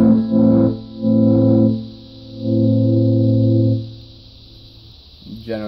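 Electric guitar through an envelope-following tremolo pedal turned down to a slower speed; a sustained chord swells and dips in three slow, broad pulses, loud and close, before a short new note at the end.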